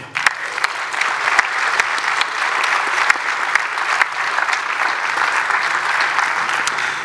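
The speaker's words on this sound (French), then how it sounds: "Et on peut encore vous applaudir." Steady audience applause fills a closing ceremony after a charity cheque presentation, dense continuous clapping from a sizeable crowd with a few sharper individual claps standing out.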